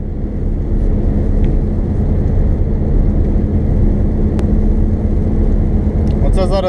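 A Daewoo Sens 1.3 car cruising at about 60 km/h, a loud, steady low engine and road rumble heard from inside the cabin without letup, with a brief high chirp near the end.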